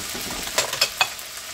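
Food browning in a home kitchen pan, a soft steady sizzle with a few brief scraping stirs, close and quiet, with no talking.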